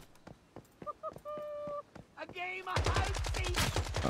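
Gunfire in the Once Human video game: a few scattered sharp shots at first, then a sustained rapid burst that turns loud and dense, with tonal game sounds and brief voices mixed in.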